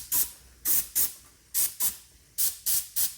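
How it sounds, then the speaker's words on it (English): Aerosol lubricant sprayed onto engine pushrod ends and valve springs during a roller cam install on a Henry J, eight short sharp hissing bursts in quick irregular succession, close and clear. "So I pretty much just spray the ends of the push rods"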